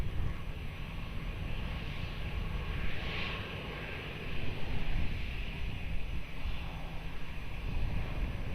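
An airliner at Lisbon Airport on runway 02, a steady distant engine roar mixed with wind noise, swelling slightly midway, with no talk.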